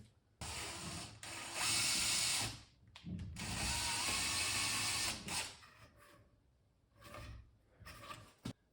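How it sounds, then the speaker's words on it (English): A power drill whirs loudly and close by in several long bursts, drilling a grease hole through the bushing of an outboard motor's steering pivot shaft, stopping and restarting with brief pauses between runs. "we're just gonna drill a hole there through the bushing so the grease can actually get into the bushing."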